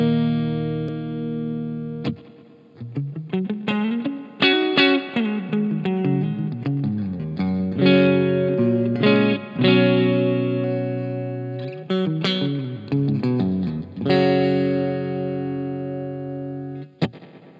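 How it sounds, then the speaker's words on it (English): Electric guitar chords and picked notes run through the spring reverb of a Gokko AXE MX300 multi-effects unit, each strum ringing out into a long, splashy tail, with short pauses between phrases. "we get to the reverb section, which is a nice spring type reverb"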